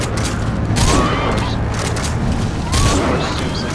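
Gunfire in the video game Metal Gear Solid V: The Phantom Pain, loud bursts of shots and booms in a chaotic firefight, with a voice heard amid the shooting.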